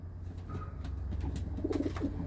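Grizzle homing pigeon of Barcelona extreme long-distance stock cooing in a loft, soft low repeated coos close by over a steady background hum.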